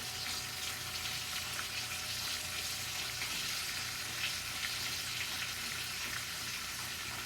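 Cut potatoes fry in a pan, a steady close sizzle and crackle of hot oil that runs continuously without pause or talk.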